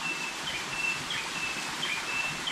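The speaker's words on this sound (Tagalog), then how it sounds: "Dito tuwing umaga napakaingay ng mga ibon." Birds give repeated high, thin chirps over a constant airy background hiss, calling steadily throughout.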